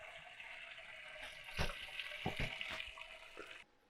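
Beer wort draining and trickling out of a lifted malt pipe in an Anvil Foundry brewing system, a steady watery splashing with a few louder splashes near the end before it cuts off.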